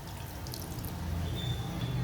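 Squeezed tamarind water poured into a pan for a dates pickle, a steady low trickling and splashing of liquid running continuously and growing slightly louder, with no talk.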